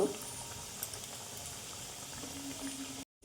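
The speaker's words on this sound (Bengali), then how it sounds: "এখন আমি এগুলো ছেড়ে দিব একটু কালার করে আমি ভেজে নিব" Food dropped into hot oil for deep frying in a home kitchen, giving a loud, continuous close sizzle and crackle of bubbling oil for about three seconds before cutting off abruptly.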